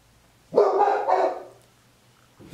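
A male dog indoors gives a single loud, close bark that stretches into a drawn-out, wavering yowl lasting about a second. Silence follows until a faint sound starts at the very end.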